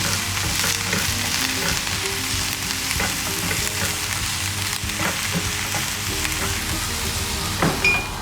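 Onions fry until brown in a pan, a continuous close sizzle with scattered pops and the occasional scrape of stirring, and no voices.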